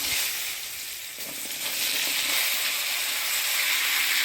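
Pumpkin pieces drop into hot oil tempered with nigella seeds and dried chilli and set off a loud, steady sizzle, with a brief thump as they land and then a fuller hiss that keeps building, with no talking.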